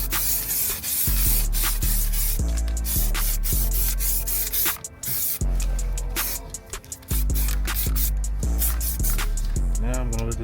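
Repeated hissing bursts of spray from an aerosol can painting a BMW M550i brake caliper, several short passes in steady rhythm, close and fairly loud.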